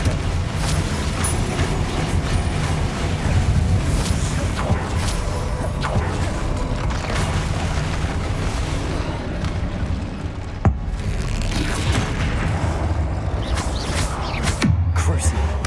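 Dense, continuous spell-casting combat in Hogwarts Legacy, with Confringo and Bombarda blasts: repeated booms, whooshes and crackling impacts layered in a loud, busy mix with occasional voices.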